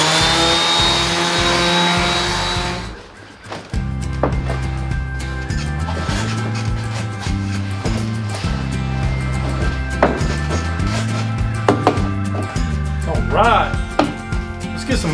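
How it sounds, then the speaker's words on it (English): Power sander rounding the cut curved edges of reclaimed wood for an outdoor dining table, a steady whirring grind that starts and stops in bursts with clunks of handling, up close. "And I'll just do that with the sander."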